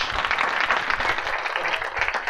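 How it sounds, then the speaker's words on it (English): Audience applause after a startup pitch presentation at a founder workshop, a steady dense clapping that holds at even loudness for a couple of seconds, with no talk over it. "Round of applause for BizMatch."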